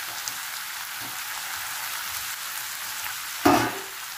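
Chillies go into a pan of hot oil with turmeric and spices, and a steady low sizzle swells into a sudden loud hiss and spatter near the end.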